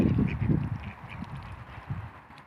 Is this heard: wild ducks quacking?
yes